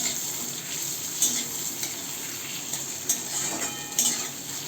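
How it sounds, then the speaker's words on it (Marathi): Green chilies and vertically sliced tomatoes sauté in a pan with a steady close sizzle, broken by periodic scraping stirs of a utensil against the pan. "मिरची परतून झाली का त्यामध्ये टाकायचे उभे कापलेले टोमॅटो पण आपल्याला इथं परतून घ्यायचे चांगले।"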